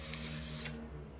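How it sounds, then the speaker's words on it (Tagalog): A sunscreen spray can releases a steady aerosol hiss up close, with no talking over it, and the spray cuts out near the end. "So, ito ay spray lang siya na sunscreen."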